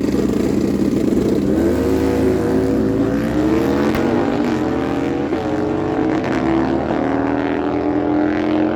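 A 2006 Harley-Davidson Screaming Eagle bagger with an Atlantic heavy-duty engine makes a drag-racing pass at a dragway. A loud, close, sustained engine roar climbs in pitch through the gears, with no talking.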